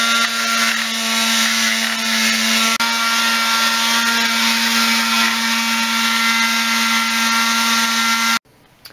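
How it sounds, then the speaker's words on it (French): A power grinder sands body filler on a motorcycle frame, running as a loud, steady, close whine with a strong hum before cutting out abruptly near the end. "Là, le gros pâté, maintenant on va poncer."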